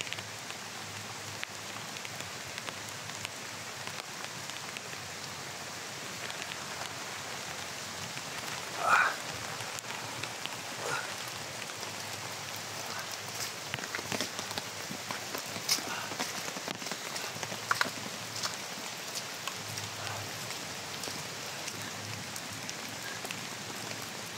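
Steady rain falls outdoors near a jackfruit tree, a constant soft hiss with scattered drops hitting surfaces and a few brief louder taps, no voices.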